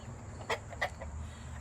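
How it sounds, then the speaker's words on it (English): A rooster in a backyard chicken coop gives two short clucking calls close by, with a steady low hum of wind or ambient noise underneath and no speech. "my rooster, hi, he's following me around"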